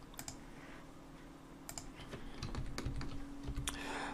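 Someone types on a computer keyboard at a desk, sending out scattered bursts of quick, soft key clicks that grow busier toward the end, close and fairly quiet over a faint steady hum, with no talking.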